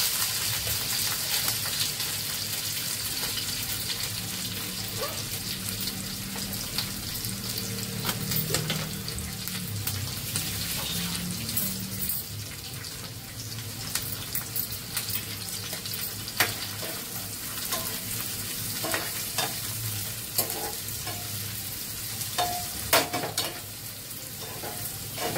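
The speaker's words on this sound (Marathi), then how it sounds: "तर त्याच्यात हे कांदा आणि मिरची टाकते." Chopped onion and green chili sizzle in hot oil in a pan with crackled curry leaves, a continuous close frying hiss broken by scraping stirs and occasional sharp pops.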